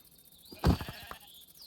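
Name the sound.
sheep bleating in Minecraft modpack video game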